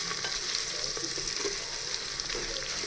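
Chicken biryani ingredients roasting in a pressure cooker give a continuous, even sizzle and crackle at moderate volume, with occasional stirring scrapes and no voices.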